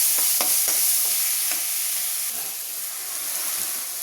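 Onions, two tomatoes and curry leaves fry in a pan for lady's finger rice, giving off a steady loud sizzling hiss with a few soft scraping stir clicks near the start, and no voices.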